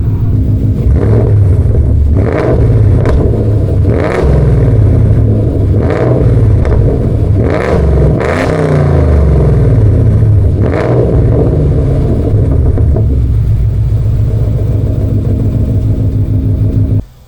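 A 2015 Ford Mustang GT V8 with an H-pipe exhaust revs repeatedly to around 3,000 to 4,000 RPM, giving loud, close, throaty bursts over a steady rumbling idle.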